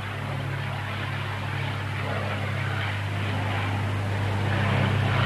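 A restored Supermarine Spitfire, an RAF fighter that served with a 1940 squadron, drones steadily overhead in flight. The engine holds a continuous, moderately loud hum throughout with no speech.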